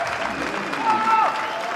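At an athletics decathlon meet in Tallinn, a stadium crowd cheers and applauds Sander Skotheim's long jump: a broad, distant wash of clapping and cheering with a commentator talking over it and a brief whistle-like tone in the middle.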